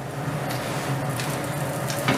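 A paratha cooks on a pan over a slow flame, giving a steady, close sizzle with soft crackling and a slight rise near the end, with no one talking.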